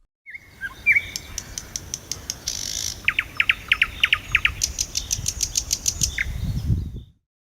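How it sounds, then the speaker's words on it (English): Nightingale song: rapid repeated whistled notes and trills in bright, clear phrases, a sustained rising whistle, then quick pulsed runs and a final buzzy series, fairly close and alone. "nightingale"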